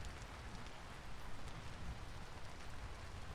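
Steady rain pours in the game Vintage Story, a dense even hiss of drops on surfaces that continues without a break and without talk.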